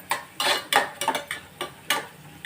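Vegetables for kuzhi paniyaram being sautéed with a little salt in a pan, heard as a run of sharp scraping, stirring strokes with a spoon against the metal, roughly eight spaced scrapes over a soft sizzle, close and fairly quiet.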